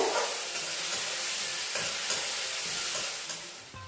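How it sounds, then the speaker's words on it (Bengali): Finely chopped onions fry in hot tempered oil for a chicken curry with capsicum, giving a steady loud sizzle with faint stirring scrapes and a few brief ticks, no voices. "ফোড়নটা হয়ে গেছে, এবার ওতে দিয়ে দেবো ছোট ছোট করে কুচিয়ে নেওয়া পেঁয়াজ। পেঁয়াজটা 2 মিনিট একটু ভেজে নেব।"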